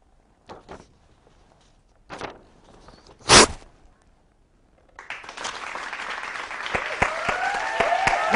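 An audience in a student television studio bursts into applause after a few scattered claps and a sharp knock, the clapping building from sparse to a full, steady, close round of hands.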